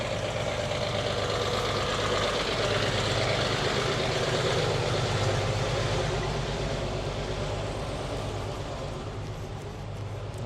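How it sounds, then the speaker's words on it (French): A large fuel truck's engine idles outside with a steady, loud low rumble and knocking throb that continues unchanged and fades slightly near the end. "j'entends un gros bruit de camion qui doit nettoyer"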